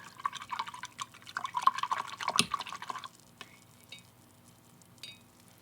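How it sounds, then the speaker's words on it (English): A watercolor brush is swished and tapped in a jar of dirty rinse water, giving a run of close, small splashes and clinks that trail off into quiet with a few last drips. "wash it in the dirty water."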